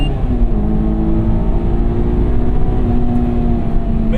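A 2001 Honda S2000 AP1 engine pulls hard under acceleration from inside the car, a loud, steady drone with a slowly climbing tone, heard continuously with road noise underneath.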